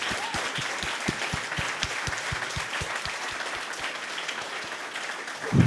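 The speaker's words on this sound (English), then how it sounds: "A big applause for the CircuitMess team and everything." Crowd applause at the CircuitMess Batmobile launch event, a steady wash of many hands clapping with a few distinct louder claps near the front, fading slightly toward the end.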